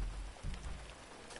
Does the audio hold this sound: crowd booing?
no